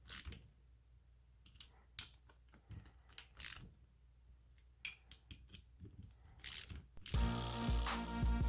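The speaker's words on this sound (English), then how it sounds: "Just trying to snug them down even." A hand ratchet snugs down bolts evenly during an engine rebuild, with a series of short, close clicking bursts scattered across the clip, ending in a louder, denser stretch of mechanical noise.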